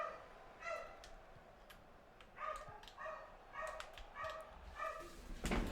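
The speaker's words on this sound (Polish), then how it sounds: "Psy tam szczekanko" Dogs barking in a series of short repeated barks and yips, somewhat distant and moderately quiet over a low background hum, growing a bit louder toward the end.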